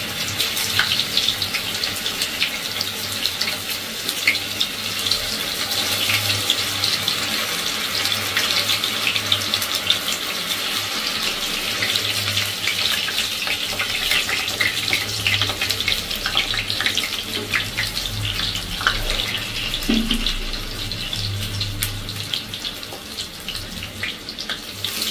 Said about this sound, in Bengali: এইগুলোকে আমি আরেকবার ভেজে নিই। আমি তেলে ছেড়ে দিলাম।